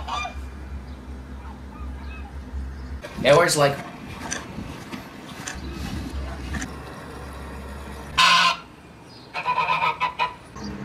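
Loud geese honk in a few harsh bursts nearby, with a person speaking briefly and low background rumble between calls.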